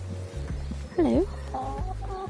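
Allotment chickens cluck close by in a garden plot, with several short clucks and one louder rising squawk over a low background hum.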